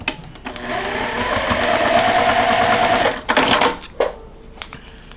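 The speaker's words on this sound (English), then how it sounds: "flip it over, and sew on the line again." A sewing machine runs a continuous stitching burst across quilt block fabric for about three seconds, then stops with a few short clicks and rattles of the machine and fabric handling.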